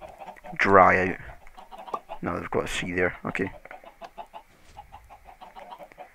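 Minecraft chickens cluck in a farm pen inside the video game, several short clucks mixed under someone talking steadily throughout.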